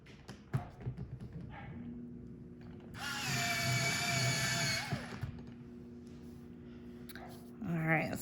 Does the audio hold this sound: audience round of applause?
no